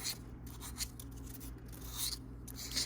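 Silver flatware being sanded by hand with roughly 220 grit abrasive around a solder seam, giving faint, soft, continuous rasping strokes close by with no talking.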